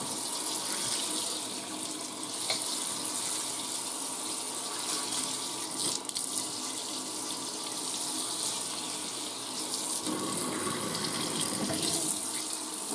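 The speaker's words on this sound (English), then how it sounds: "I'm just rinsing off all the yuckies." Hot water runs from a kitchen tap over a baking sheet in a sink, a steady close hiss and splash that continues throughout, with small clatters as the sheet shifts under the stream.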